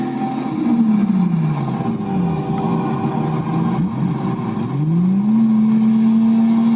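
A Lamborghini Murcielago engine revs loudly and close by, its pitch dipping and rising in sweeping surges before settling into a sustained, strong tone.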